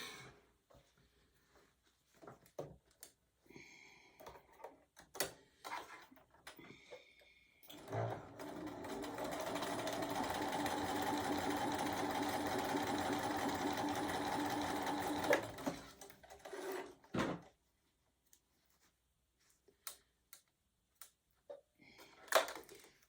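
A sewing machine stitches a seam on a small quilted mug rug, running in one steady, close burst of about seven seconds, with quieter handling clicks and rustles before and after.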